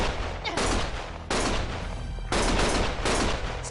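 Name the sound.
gunfire in the video game Lost Judgment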